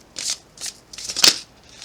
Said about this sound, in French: On va voir, je vais mélanger quand même.